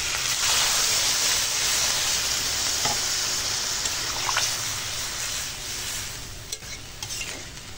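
Water hits a pot of sautéed pumpkin and potato with a loud rushing hiss and sizzle at first. The noise eases into a bubbling, stirring simmer with occasional clinks and splashes.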